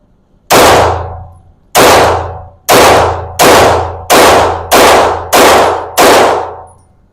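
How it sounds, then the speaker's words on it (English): Eight loud, close gunshots from a 9mm pistol firing reloaded ammunition, the first two spaced apart and the rest in a quicker, even string, each ringing briefly. "So let's just shoot and see if we get reliability."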